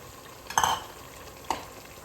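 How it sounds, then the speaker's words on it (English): Cooked sausage being stirred into a pan for baked ziti, with two short scraping stirs close by, the first longer and louder, over a quiet background. "I'm gonna also stir this in."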